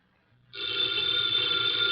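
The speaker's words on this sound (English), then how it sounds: "the ringing of that phone bell brings you mystery, adventure." An old-fashioned telephone bell starts ringing abruptly after a brief quiet moment, a bright, sustained metallic trill heard close and alone, opening an old time radio mystery drama.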